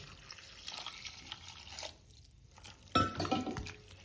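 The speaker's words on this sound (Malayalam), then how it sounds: "ഇനി നമുക്ക് അതിലേക്ക് കുറച്ച് പച്ചവെള്ളം ഒഴിച്ചു കൊടുക്കാം" Water trickles and drips faintly, goes quiet briefly, then fresh water pours into a pot for Kerala-style chicken rice with a louder splashing gush.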